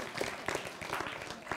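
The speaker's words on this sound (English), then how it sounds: "Give yourselves a round of applause." An audience at a Los Rios Colleges convocation gives brief, quiet, scattered clapping in a large hall, fairly distant and short-lived.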